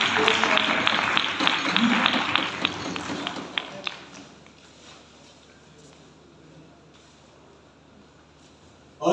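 Audience at an all-party youth conference in Balochistan applauds a guest with dense, steady clapping for several seconds that thins into a few isolated claps and near silence.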